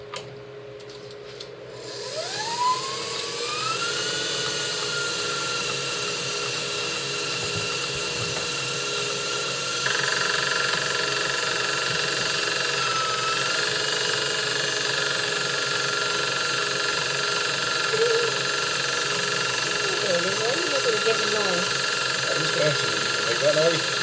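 An electric mixer beating cake batter makes an unusual noise: its motor spins up into a loud, steady whine with a shifting pitch that runs continuously to the end.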